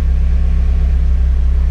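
A car engine idling, heard as a steady low rumble with a constant throbbing pulse, loud and close throughout with no voices.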